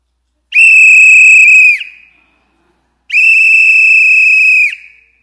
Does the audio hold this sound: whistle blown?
yes